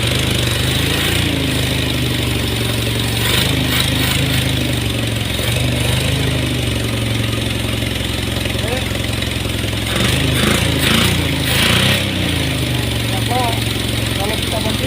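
A car engine idles steadily after a starter (delco) installation, with a few brief rises in revving, heard close and continuous under nearby talk.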